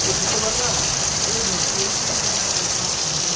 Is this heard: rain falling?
yes